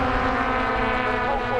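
Model aircraft engine at an air show powering up, a loud steady propeller drone with a strong buzzing pitch, held close and continuous throughout.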